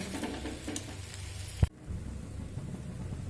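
Banana flower (mocha) is stirred in a pan until dry, giving a soft continuous sizzle with a sharp clatter partway through, then a quieter sizzle.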